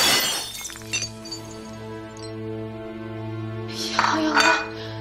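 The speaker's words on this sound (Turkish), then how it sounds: "Ya kırıldı tabak." A ceramic plate from a dish set breaks in a kitchen with a sharp crash and scattering clinks at the start, followed by a sustained musical score and a few later clattering sounds.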